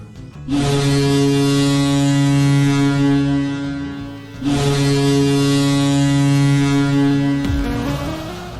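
The Boston Bruins NHL goal horn sounds as a deep, loud foghorn-like blast, held for several seconds. After a short break comes a second long blast, which ends with a low rumble.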